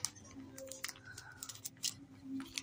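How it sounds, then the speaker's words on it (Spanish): Scissors snip and crunch through a package at close range, with several separate sharp cuts and crinkly rustling spread across a few seconds in a quiet room. "No pude abrirlo, así que fui por mis tijeras"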